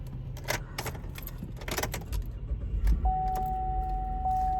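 A 2016 Chevy Traverse with a replaced purge valve cranks briefly amid rattling key jingles, then starts at once and settles into a steady close idle with a tonal chime.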